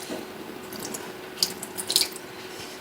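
Water trickles and splashes into a container in the kitchen while barbecue ribs are prepared, a light uneven pour with a few brighter drips and splashes, close by and faint.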